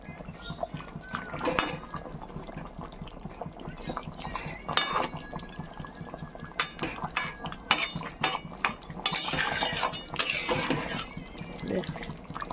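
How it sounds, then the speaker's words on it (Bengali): A spoon clinks and scrapes against a pot while pieces of boal fish are pushed down and stirred into a spicy coriander curry. Scattered close metallic taps and rattles run irregularly throughout. "মাছগুলো সব ঝোলে ডুবিয়ে দিতে হবে"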